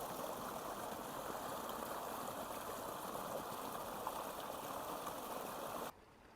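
Irrigation water flows steadily into a village vegetable field, a constant rushing wash that stops abruptly near the end, leaving quiet.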